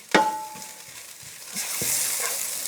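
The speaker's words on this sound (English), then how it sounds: "We're going to add that ginger, right? And all of our spices at this point, okay? We're going to stir that in." Ginger and spices get stirred into a hot pan for a vegetable biryani, with a sharp clink of the spoon at the start, then a soft scrape and a rising sizzle of frying.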